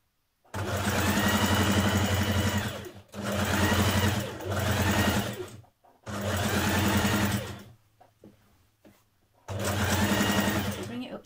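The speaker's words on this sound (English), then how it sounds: "When you've done this, you can also zigzag or overlock" Sewing machine zigzag stitching along the edges of trouser pocket pieces, running in four steady bursts separated by short pauses, close and fairly loud with no talk over it.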